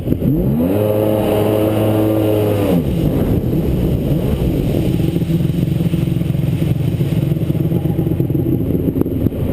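A 1999 Kawasaki STX 1100 jet ski with plugged inline fuel filters: the engine holds a raised rev, drops sharply, then settles into a loud, rough, close idle.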